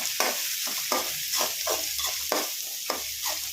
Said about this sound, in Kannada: ಇದು ಚೆನ್ನಾಗಿ ಫ್ರೈ ಮಾಡ್ಕೊಬೇಕು ಫ್ರೆಂಡ್ಸ್